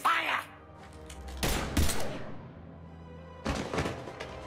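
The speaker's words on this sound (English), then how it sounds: "Now open fire!" Gunfire in the video game Mass Effect 3: a short volley opens, then two sharp blasts close together, and after a lull another heavy burst erupts, loud and booming against a low rumbling backdrop.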